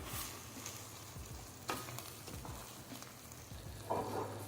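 Risotto rice cooking in a pan over raised heat as white wine cooks off, a soft continuous sizzle with occasional stirring scrapes and a brief clink near the end, no voices.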